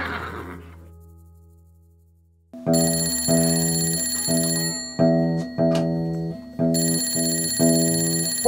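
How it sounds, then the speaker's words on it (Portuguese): A telephone rings in a comedy sketch, an electronic ringing tone with steady harmonic stacks that starts after a quiet gap and repeats in several loud, regular bursts on its own. "O telefone tá tocando."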